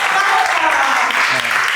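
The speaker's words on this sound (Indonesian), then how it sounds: "Beri tepuk tangan untuk kelompok" Classroom applause for the second student group during an Arabic-language teaching session, a close, dense burst of clapping filling the short moment, with voices mixed in beneath.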